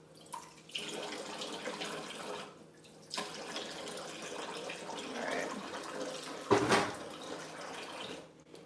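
About two tablespoons of water run from a tap into cookie glaze in a kitchen, heard as a steady, fairly faint stream with short pauses and a brief louder splash near the end.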